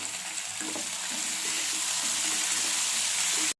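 Tomatoes sizzle in hot oil in a pan with garlic and ginger, a steady close frying crackle that carries on throughout with faint stirring scrapes.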